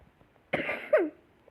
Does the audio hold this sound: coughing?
yes